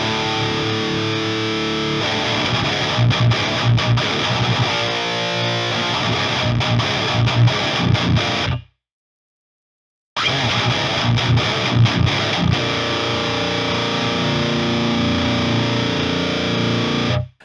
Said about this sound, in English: it sounds like a tube screamer